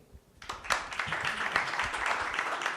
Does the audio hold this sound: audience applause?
yes